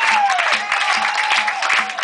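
Concert audience applauding a guest opener at a show, a steady wash of clapping and crowd noise with a sustained tone ringing under it.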